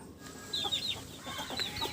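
Native laying hens clucking close by, a few quick, fluttering clucks and short calls in a burst, moderately loud against a quiet yard.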